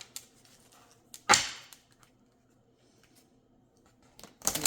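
A deck of 50 Ayanda Van Zant 'Until Today' cards gets shuffled up close, with two short crisp riffling bursts separated by a quiet pause and no talking.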